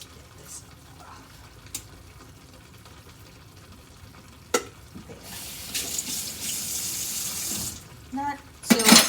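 Tap water runs into a kitchen sink to rinse a freshly boiled egg, a steady close splashing hiss that starts midway after a few soft clicks and handling noises.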